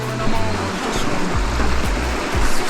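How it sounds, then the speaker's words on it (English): A mountain creek near Wolverine Lake rushes steadily, a loud, close, broadband wash of water with low rumbling undertones and no pauses. "this creek does flow from the lake, but if you look carefully, it goes underground"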